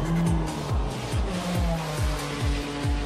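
Racing sim game audio of a race car engine, with a pulsing, revving tone that rises and drops in repeated shift-like sweeps and steady tire noise. The sound is close, continuous and loud, with no talking.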